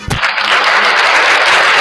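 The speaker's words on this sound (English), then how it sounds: "Oh, a round of applause for what I said" A brief round of applause rises quickly from a single clap into dense, continuous clapping from a crowd that holds steady throughout.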